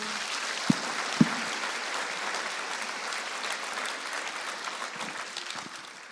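A church congregation bursts into sustained applause for a visiting pastor, a dense and steady clatter of many hands that fills the room, with a couple of sharp louder claps near the start.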